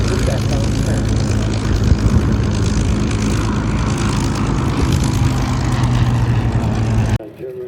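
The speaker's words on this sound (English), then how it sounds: "Memphis Belle Boeing B-17" Boeing B-17 Memphis Belle bomber flying a display at the Duxford airshow: a loud, steady multi-engine propeller drone that holds throughout, then cuts off abruptly near the end.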